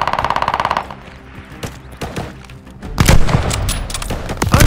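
Rapid automatic gunfire from Call of Duty: Vanguard, a fast rattling burst up front followed by scattered shots, heavy thuds and booming impacts that grow louder and denser toward the end.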